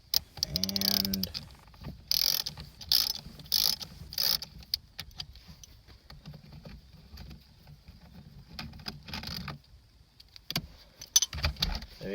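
A ratchet wrench with a 13 mm socket works on an airbag bolt inside a Nissan 240SX, giving bursts of quick metallic clicking up close, with pauses and faint handling clatter between the runs.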